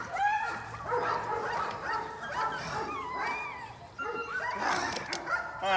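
An American pit bull terrier barks and whimpers in rapid high yips and whines, close and continuous, with a voice briefly underneath.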